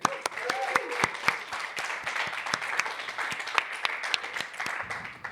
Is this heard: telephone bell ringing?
no